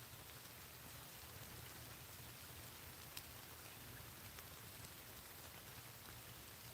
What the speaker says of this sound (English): The rain itself is still pretty light.